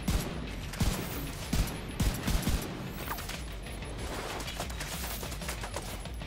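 Automatic gunfire aimed at the player in The Division 2, with loud clustered volleys in the first three seconds and sparser, quieter shots after that against a continuous background of battle noise.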